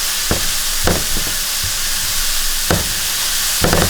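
Garlic stir-frying with keto cauliflower fried rice and shrimp in a hot pan, a steady sizzle broken by several sharp scraping stirs of the utensil, close and moderately loud, with no talking.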